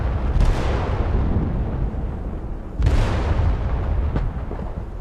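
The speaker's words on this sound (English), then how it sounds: "I'm gonna send an artillery strike" Booming artillery strike explosions in a first-person military shooter game, two heavy blasts with rumbling tails and a sharper crack near the end, loud and close with no talking.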